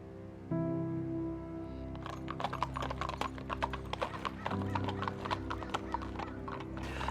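Horses walk along a road at a ranch in a canyon state park, their hooves clip-clopping in a steady, fairly close rhythm over a low humming tone, with a brief whinny-like sound near the start.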